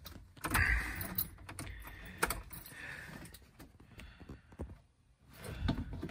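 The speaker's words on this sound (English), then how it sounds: "let's find the keys." A bunch of car keys jingles and clinks up close, with several short metallic jangles and rattles over a few seconds.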